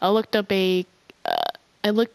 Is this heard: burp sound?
yes